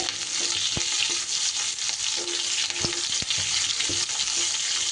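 Cubed onions frying in a pan for chili fish made with bombay duck, a loud continuous sizzle close by, punctuated by several sharp spatula knocks against the pan.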